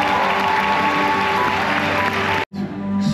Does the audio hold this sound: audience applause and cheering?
yes